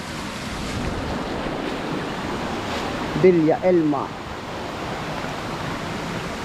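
Strong rushing water roars steadily at the Villa Elma resort in Lucban, Quezon, a continuous broadband wash with a short burst of nearby talk midway.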